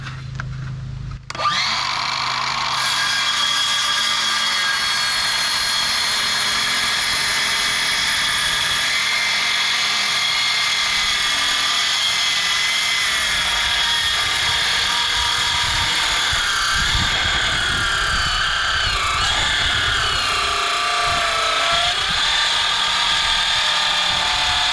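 Battery-powered circular saw ripping along the grain of timber for a timber frame shed, a loud sustained whine that binds and strains through the cut, starting after a short quiet moment and running continuously to the end.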